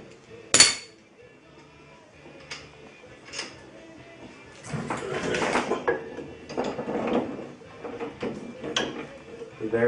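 Metallic clanks, ratcheting and tool clatter from bolts being loosened during a front spring replacement on a 2011 Scion tC, with a sharp knock near the start and busier mechanical rattling through the second half.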